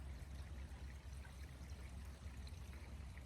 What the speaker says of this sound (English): now we're in this like epic woods by this creek. You can just hear it.